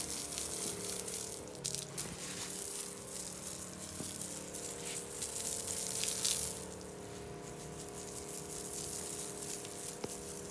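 A hose from an 8 GPM pressure washing unit sprays pre-treatment, giving a steady hissing gush with a constant pump drone underneath that eases off slightly partway through.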